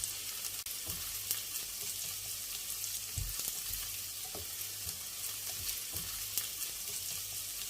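Vegetables for menemen sauté in a hot pan with a constant close sizzle, plus occasional soft stirring knocks and spatters, and no talking.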